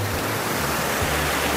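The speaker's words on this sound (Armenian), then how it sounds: "Սվարանցի ջրվեժը, խնդրեմ։" Svarants waterfall in Armenia gives a continuous broad rushing wash of water, steady and fairly loud across a brief moment, with a low rumble beneath and no speech.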